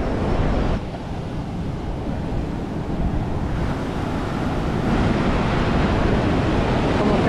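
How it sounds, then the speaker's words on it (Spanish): Rough sea surf rolls in a continuous loud roar at Balneario de Carolina beach in Puerto Rico, mixed with gusting wind buffeting the microphone and no voices. "hoy está bien soplado el mar"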